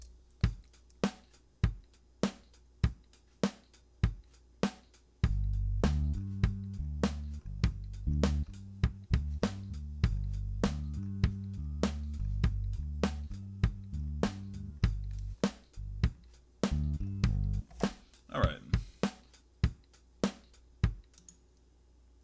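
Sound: drum beat with kick and snare in Cakewalk

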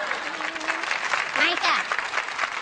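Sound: audience applause

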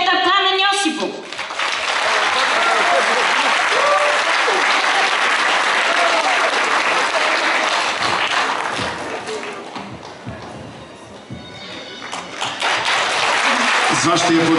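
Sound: audience applause at a folk trio concert

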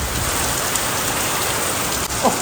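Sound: heavy pouring rain outside

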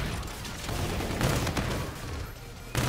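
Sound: De-Atomizer gun firing in Infinite Warfare video game

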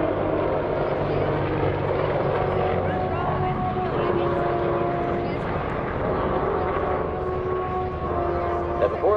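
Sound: Apache helicopters flying

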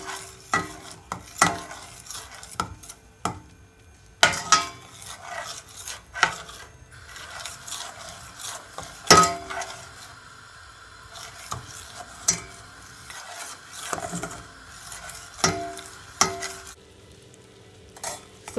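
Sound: stirring caramel sauce in a pan so it doesn't stick

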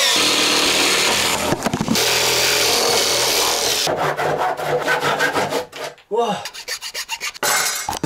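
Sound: jigsaw with a blunt blade cutting hard oak wood

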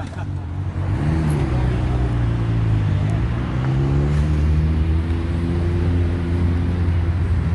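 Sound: old motorcycle engine on a ride

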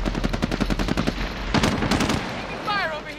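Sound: gunfire in Call of Duty Modern Warfare video game

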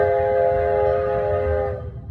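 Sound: steam engine whistle

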